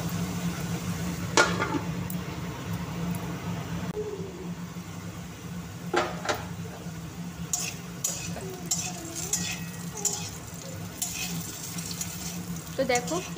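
Potato pieces with salt and turmeric frying in a pan, a low steady sizzle broken by scattered scrapes and clinks of a spatula, with a person talking at times.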